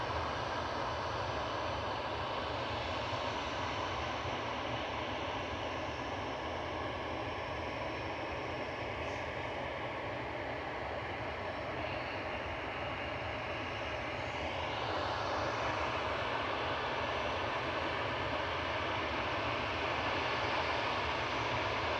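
A Ryanair airliner arriving from Cork lands on runway 23 right at Manchester Airport, a steady broad engine roar held at constant loudness throughout, with no one talking.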